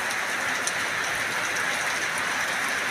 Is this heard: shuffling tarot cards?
no